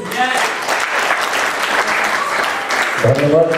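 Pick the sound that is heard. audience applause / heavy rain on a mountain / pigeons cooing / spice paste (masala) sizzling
audience applause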